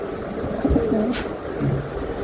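Racing pigeons coo in soft, low, rounded calls, a few repeated phrases close by over a faint background hiss.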